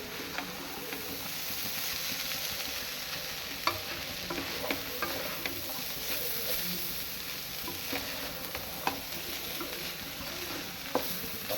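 A spoon scrapes and turns dal with drumstick (moringa) leaf thoran in a pan, a steady close-up stirring with a soft sizzle underneath and a few sharper knocks against the pan, with no voices.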